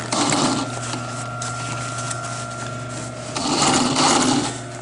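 A sewing machine stitches a repair, a close, steady mechanical hum with a rapid needle chatter that swells slightly louder near the end, with no talking.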